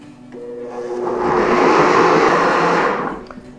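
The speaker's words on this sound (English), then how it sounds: "Next, we're gonna blend that all up. Start at a low speed first to get things going." Blender running at low speed through pumpkin pie filling with silken tofu, its motor swelling into a loud, steady whir for about two and a half seconds before winding down.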